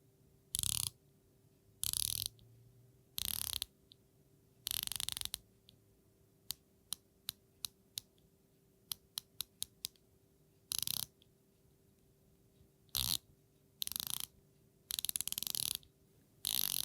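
A Rado Captain Cook full ceramic dive watch bezel being turned through its 120 positions, producing crisp, quiet ratcheting clicks in short bursts, then a run of single evenly spaced clicks, with silence between the bursts.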